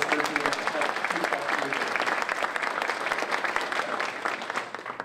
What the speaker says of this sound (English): that really deserves a round of applause for the visionary work they're doing.